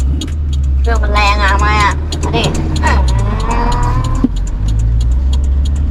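A Suzuki Caribian with coil-spring suspension drives along a paved road, its steady low engine and road rumble continuous throughout, with a loud voice talking and exclaiming over it.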